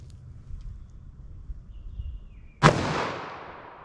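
A single .44 Magnum gunshot fired into ballistic gel outdoors, one sharp loud crack after quiet with a long echoing decay, preceded by faint low background noise.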